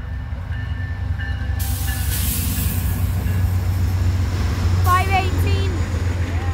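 Amtrak and CSX freight locomotives roll past at a crossing, a steady rumbling train noise with hissing and faint wheel squeal, while people talk nearby.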